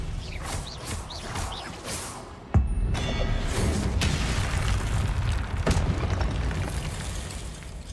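Spell being cast in the Hogwarts Legacy video game: a sharp magical burst with a whooshing crack near mid-clip, over a dense, rumbling game soundscape with scattered pops and swishes.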